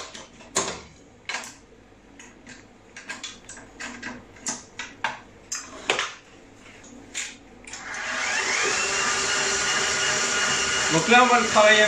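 An electric mixer beating baba dough with butter: after a series of scattered knocks and clinks, the motor whirs up into a loud, steady whine that runs to the end.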